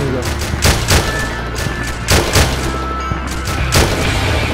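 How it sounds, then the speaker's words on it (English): In the military shooter game Arma, a GPMG machine gun fires several loud, sharp bursts at irregular intervals, mixed with other battlefield gunfire and some radio-style voices underneath. "Stone, take up that GPMG."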